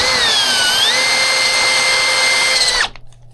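A power drill runs steadily on a Harbor Freight jack bushing during a big-wheel conversion, a loud continuous whine with a slight pitch dip early, then cuts off abruptly near the end, leaving faint room noise.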